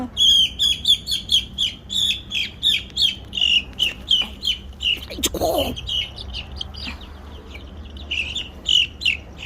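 Chickens, including silkie chicks, cluck and chirp close by on a farm in rapid, repeated high calls with a steady, bouncing rhythm and a brief squawk midway.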